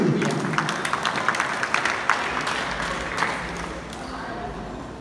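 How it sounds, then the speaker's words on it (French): Spectators at a French under-22 men's frontball championship applaud the players, a moderate spread of claps with sharp individual hits standing out over a reverberant hall, fading toward the end. "vous pouvez les applaudir"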